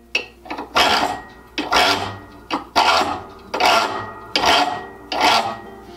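A handleless thread restoring file rasps across the pilot threads of an auger bit in six distinct strokes, each a gritty metallic scrape with short pauses between, close and fairly loud.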